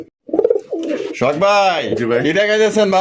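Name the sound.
pigeons cooing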